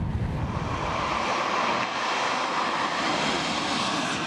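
A jet airliner at Sydney Airport produces a steady broad roar at moderate distance, continuous and without speech.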